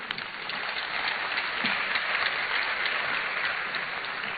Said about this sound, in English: Another round of applause for him, ladies and gentlemen.